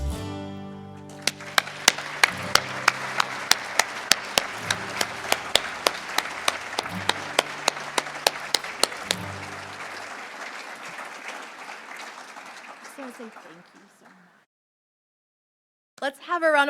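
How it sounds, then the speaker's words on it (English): Audience applause at a church synod assembly dinner recognition, a steady roll of many hands clapping with louder sharp claps standing out, continuing for about twelve seconds before fading to silence, then a brief burst of sound at the end. "Let's have a round of applause for the ways that Calvary, like so many of our congregations, demonstrates faith, active in love."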